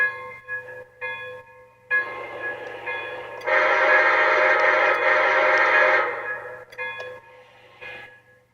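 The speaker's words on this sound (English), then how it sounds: "So that's the bell." Bell of a model train locomotive: short repeated dings, then a sustained ringing stretch in the middle, followed by a few more spaced strikes, fairly close and alone.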